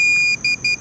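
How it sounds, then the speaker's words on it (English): A DJI Avata controller beeps during binding: one long steady electronic tone, then two shorter beeps in a quick, even rhythm, close and clear with no talking. "Hold the power button until it beeps."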